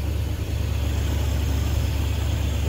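A 1974 Chevy C30 custom wrecker truck's engine runs steadily after sitting for about five years, a loud, close, continuous low idle rumble with no talking.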